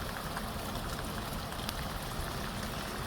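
Heavy rain pours near the Cachoeira do Tabuleiro waterfall in Minas Gerais, a steady, dense hiss that stays even and continuous throughout with no voices.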